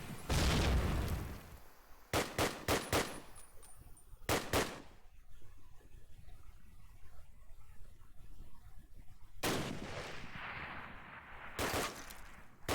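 Gunfire from a competitive online first-person shooter match: several loud, sharp shot bursts early on, a quieter stretch of game ambience, then more shots near the end, with no talk over them.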